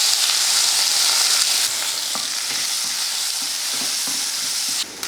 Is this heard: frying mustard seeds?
yes